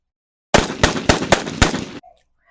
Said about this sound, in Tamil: அமெரிக்காவில் இன்று காலை முகம் தெரியாத நபர் பள்ளிக்குள் சென்று துப்பாக்கி சூட்டு நடத்தியதில் பல மாணவர்கள் தாக்கப்பட்டனர்